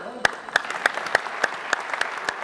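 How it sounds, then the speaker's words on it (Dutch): Rhythmic group clapping from a small podcast studio audience, a steady beat of distinct claps about three per second, close and moderately loud. "op zijn komen dagen met een heel warm applaus voor onszelf"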